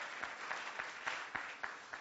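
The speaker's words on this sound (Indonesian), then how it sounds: "Tepuk tangan bagi Allah kita," Applause from a church congregation during a sermon, heard as a quiet, even patter of clapping with a few sharper claps standing out at a steady pulse, no voices over it.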